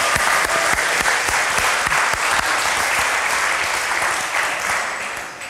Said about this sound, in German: verabschieden Jens mit einem herzlichen Applaus